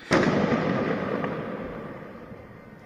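A firework bursts with a sharp bang over a city neighbourhood at night, then a long crackling, rumbling decay slowly fading over a few seconds.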